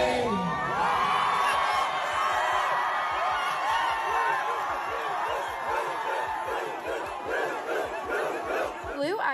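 A concert crowd at a world tour show in Paris cheers and screams wildly, a dense, loud roar of many voices that holds steady throughout with excited whoops rising above it.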